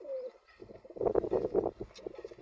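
Low, throaty cooing from an all-black pigeon with feathered feet and orange eyes, a run of rolling pulses close by and moderately soft.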